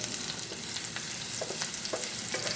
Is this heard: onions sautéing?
yes